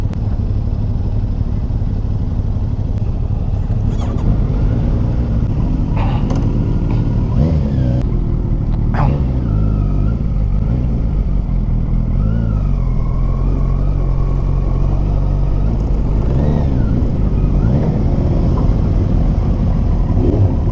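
Motorcycles and Yamaha X-Max scooters ride along together in a continuous, loud, close engine drone, with passing revs and brief higher engine notes rising over the steady rumble throughout.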